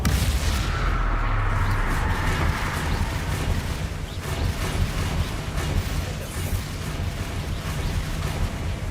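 Confringo spell blast in the Hogwarts Legacy video game, a loud booming burst with rumbling low end, followed by continued crackling, mechanical clatter and dense action noise throughout.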